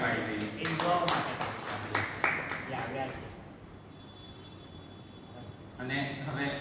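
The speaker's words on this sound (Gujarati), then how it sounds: "આપણે પહેલા પોતાના માટે તાળીઓ પાડી દઈએ" An audience at a youth book-discussion event claps in a burst of applause that fades after a few seconds, and a voice follows.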